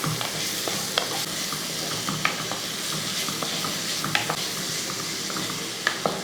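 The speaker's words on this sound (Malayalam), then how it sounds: "ഈ കോവയ്ക്കാൻ കൂടെ ഇട്ടതിന് ശേഷം ഇതെല്ലാം കൂടെ നന്നായിട്ട് ഇളക്കി കൊടുക്കും" Chopped ivy gourd sautés in a pan for a Kerala-style kovakka curry, a continuous close sizzle broken by sharp scrapes and knocks of a stirring spoon.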